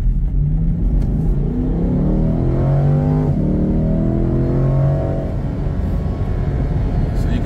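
A 2023 Chevrolet Corvette C8 Stingray 1LT launches hard from a standstill, its engine note climbing loud and close through the revs, then easing off as it cruises on.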